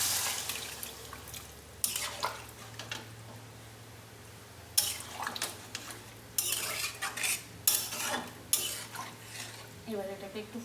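Soaked paneer in hot water is poured into a pan of cooked masala with potol: splashy pouring and watery sloshing in bursts, with clinks of a utensil against metal, close and moderately loud.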